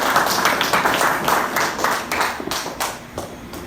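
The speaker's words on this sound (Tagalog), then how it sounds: "Palakpak po para sa Panginoon!" A church congregation at an LFCI Paombong Hagonoy service claps to welcome their pastor, a dense, lively burst of clapping that stays close and loud before thinning out toward the end.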